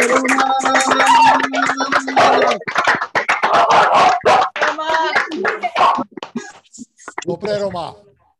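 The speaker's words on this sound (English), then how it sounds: "let's applaud. Let's applaud all the speakers" An online audience at a summit claps and cheers through open microphones, a dense, uneven patter of hands mixed with overlapping voices and a dog barking, thinning out toward the end.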